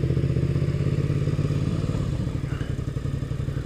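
A SuperScout1 motorcycle rides off-road, its engine a close, loud, throbbing pulse. The pitch drops slightly through a smooth downshift, with light clatter over uneven ground.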